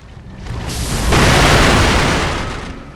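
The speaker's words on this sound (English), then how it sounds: "Taking my number 2 spot is the firecrackers." Firecrackers explode in the video game Sekiro, a loud explosive roar swelling into a sustained, crackling rumble, peaking in the middle before slowly dying away.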